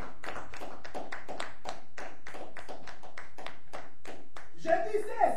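A church congregation claps in praise of Jesus, a steady run of rhythmic, evenly spaced claps that ends with a few voices rising near the close.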